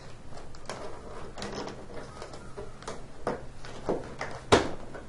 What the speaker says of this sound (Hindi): ये देखिए ये लॉक ओपन हो गया।